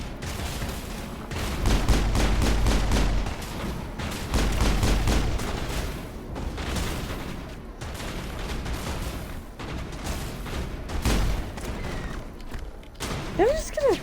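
Gunshots from the video game Mass Effect, repeated bursts of rapid fire with heavy low thumps, strongest early then thinning out, with someone talking over the shooting.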